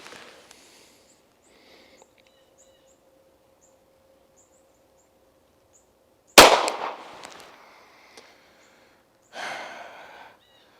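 A Votatu PMD504G red dot sight sits on a pistol fired at a 7-yard target. Two loud, sharp shots are separated by a few seconds, each with a short ringing decay, after quiet background.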